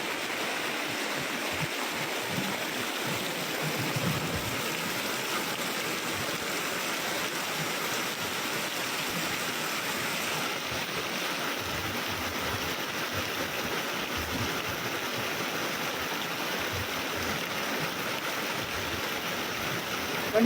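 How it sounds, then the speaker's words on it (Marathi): Heavy rain pours down steadily in the town of Kankavli, a dense continuous wash of noise that stays loud and unbroken throughout. "मोठ्या प्रमाणात हा जो पाऊस आहे तो सुरू झालेला आहे."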